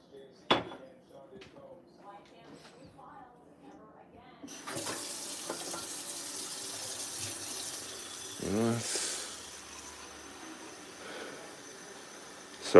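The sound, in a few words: pouring running water to give water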